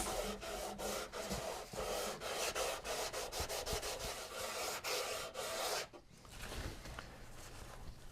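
Sandpaper rubbing back and forth along an ebony guitar fretboard on a well-supported neck, working through fine grits toward 320–400: a steady, close, raspy scraping in even repeated strokes that pauses briefly near the end.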